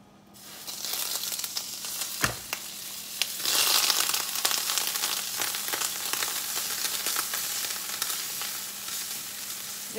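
Butter sizzles and fries steadily in a heated pan, a continuous close crackling hiss that swells slightly a few seconds in, with one brief clatter near the start.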